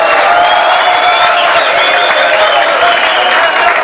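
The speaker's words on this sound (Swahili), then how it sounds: "Tupigieni bishop wetu makofi mazuri." Steady, loud applause and cheering fill the space as a crowd at a public gathering in Meru claps for a bishop, a dense continuous roar of many hands with no single voice standing out.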